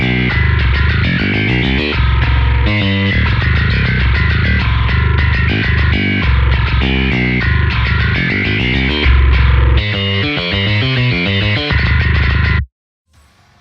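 A heavily distorted, reamped bass guitar plays a driving, chugging riff with sustained gritty notes, loud and continuous, then cuts off abruptly near the end.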